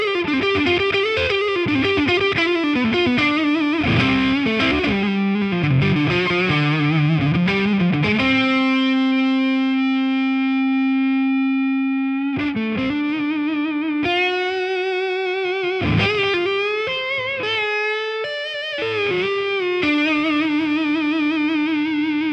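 Les Paul electric guitar played through the neck pickup into a distorted amp, a Slash-edition model; a loud, continuous lead line with fast runs, sustained singing notes and chorus-like effects, with no talking.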